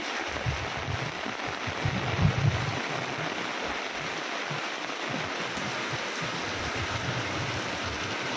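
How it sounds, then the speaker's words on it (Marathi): Heavy rain pours down on a town street in Kankavli, a dense, even hiss of steady downpour with low rumbling underneath, continuous and moderately loud, with no talking. "पाऊस मोठा झालेला आहे."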